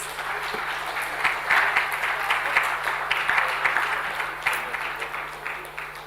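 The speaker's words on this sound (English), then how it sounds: "Can we have some round of applause, please?" A hall audience at a food safety seminar applauds as a memento and certificate are presented, even sustained clapping from many people at moderate volume over a low steady hum.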